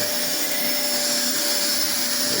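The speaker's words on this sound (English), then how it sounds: "this is a real vacuum, it's not a toy" A real household vacuum cleaner runs steadily and loudly up close, a constant whooshing motor roar with a thin whine, and no voices.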